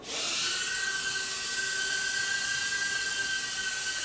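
An Eachine E010 mini drone flies nearby with a high, thin whine from its tiny motors, constant and fairly loud from the start, holding a steady buzzing pitch throughout.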